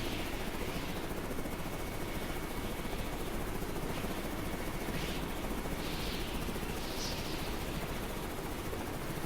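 Razorbill aircraft in Carrier Command 2 flying at high altitude, heard as a steady, even engine and rotor drone that stays constant throughout with faint higher whines drifting through.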